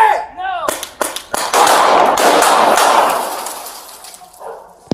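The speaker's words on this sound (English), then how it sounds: "Now these things we know are delivered with a typical pepper ball launcher" Pepper ball launcher fired at a person during a police confrontation, a rapid string of sharp cracking shots bunched together near the start, followed by a loud sustained burst of noise and a final sharp pop, with voices early on.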